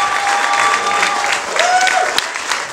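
Wedding guests applaud the father of the bride at a reception, a steady wash of clapping with a crowd murmur and some voices underneath, fairly close and moderately loud throughout.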